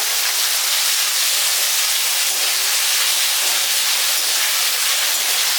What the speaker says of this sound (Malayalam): നമ്മൾ എണ്ണയിലേക്ക് ഇട്ട് കൊടുക്കുന്നത് അപ്പം നന്നായിട്ടൊന്ന് ഇളക്കി കൊടുത്ത് ഇത് നന്നായിട്ടൊന്ന് പൊരിച്ചെടുക്കാറ്